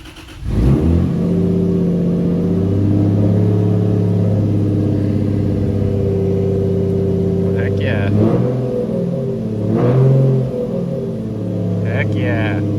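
A turbocharged Lexus IS300 engine cranks and settles into a steady, loud idle that holds throughout, with a few brief higher rattles on top of the drone.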